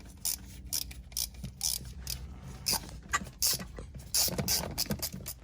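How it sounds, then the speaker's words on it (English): A socket wrench ratchets out the last bolt on a Chevy Express van's 4.3 engine, with repeated bursts of close, loud clicking and metallic creaks in an uneven rhythm. "So let's get that last bolt out of here."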